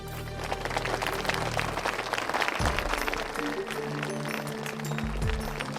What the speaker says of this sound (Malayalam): Give him A big clap.